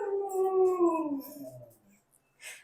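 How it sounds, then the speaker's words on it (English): A dog howls in a home kitchen, one long falling howl sliding downward over about two seconds, fairly close and loud, followed by a brief breathy yip or huff. "I live with 4 dogs. So one of them likes to talk."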